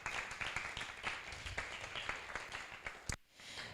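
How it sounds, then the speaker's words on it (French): Faint applause from the audience at an exhibition round table, a steady patter of clapping that cuts off sharply near the end. "Donc on peut les applaudir s'il vous plaît."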